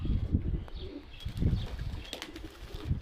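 Pigeon chicks in a loft, with soft fluttering wing flaps and low cooing and shuffling close by, plus a few faint chirps, continuous over a quiet background.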